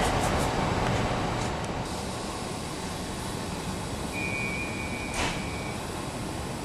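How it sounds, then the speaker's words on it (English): A constant low rumble of a double-decker train in motion, heard from the top deck, with a brief high electronic tone and a faint click midway. "I finally got my ride on the top deck of one of these double-decker trains."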